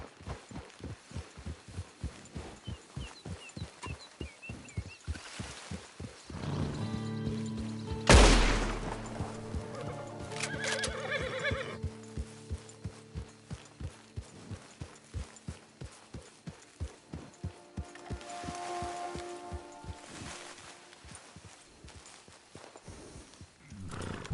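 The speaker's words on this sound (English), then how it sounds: "Get your horse." A horse in a video game trots with steady, evenly spaced hoofbeats that run throughout, and a louder burst rises near the middle that may be a neigh before the rhythm continues.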